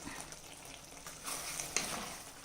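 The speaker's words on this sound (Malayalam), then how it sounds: "ഇട്ട് കൊടുത്ത് നല്ലതുപോലെ ഒന്ന് ഇളക്കാം." Chicken perattu with ground black pepper sizzles steadily in a pan while a spoon stirs it, giving a soft continuous crackle with light scraping and no voices.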